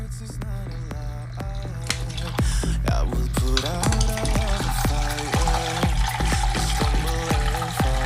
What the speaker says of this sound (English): Be careful because the water is splashing.